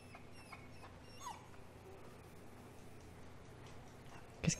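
Soft dog whimpers from a dog in the video game Somerville, faint and brief over a steady low background hum with a small louder sound near the end.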